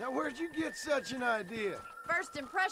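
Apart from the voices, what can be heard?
None of the usual background noises is heard.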